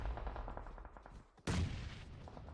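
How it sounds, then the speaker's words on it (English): Gunfire crackles in a PUBG Mobile esports match, scattered distant shots fading in and out before a sudden louder burst lands close by, no voices over it. "Lots of shots just firing off all around them."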